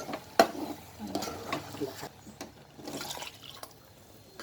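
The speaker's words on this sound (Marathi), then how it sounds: "आता हे मुरल्यानंतर, वाटप मुरल्यानंतर आपण पाणी ओतून घेऊ." Water poured into a prawn curry masala (kolambi rassa) in a pot, a brief splashing gush that tapers off within a few seconds, fairly quiet and close.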